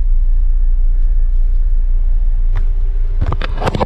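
Bus 785's engine idles with a loud, steady low rumble during an engine check, with a few brief knocks and clatters near the end.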